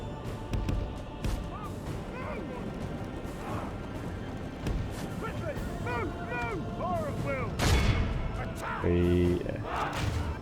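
Archers loosing volleys in a Divide and Conquer battle, a busy clatter of impacts, clashes and thuds mixed with distant shouting and a few sharp cracks, with someone talking over it.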